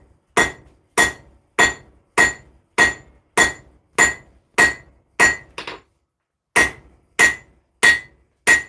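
Hammer blows on hot steel at an anvil while forging a small Zangetsu-style blade, a steady series of about fourteen sharp ringing strikes with a short pause before the last few, close and loud with no talk.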